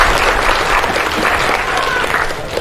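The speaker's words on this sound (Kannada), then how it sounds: "ಚಪ್ಪಾಳೆ ಮುಖದ ದಯಮಾಡಿ ಎಲ್ಲ ಚಪ್ಪಾಳೆ ಹೋಗಿ." Loud, continuous applause from an audience at a birthday program honouring senior citizens, a thick crowd clapping evenly throughout with faint voices mixed in.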